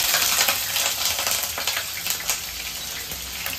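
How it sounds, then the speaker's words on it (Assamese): Potatoes fry in hot oil in a home kitchen, a steady crackling sizzle with scattered pops and stirring scrapes, heard up close with no voices. "আলু ভাজি আছে"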